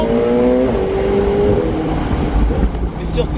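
A McLaren 720S Spider supercar pulls hard under turbo boost, its engine note climbing in rising pitch sweeps, loud and close from inside the cabin, with a voice speaking over it.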